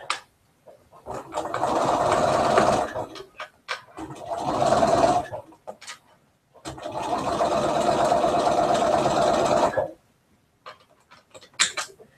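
A sewing machine runs a seam around a pincushion in three long steady bursts of fast whirring stitching, with brief pauses and small clicks between them, heard up close with no talk over it.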